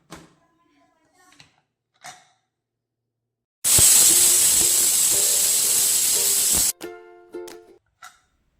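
A pressure cooker holding mixed vegetable palya lets out one loud, steady steamy hiss for about three seconds, with brief clatters and short sounds before and after.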